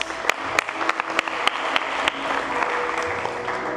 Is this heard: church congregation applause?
yes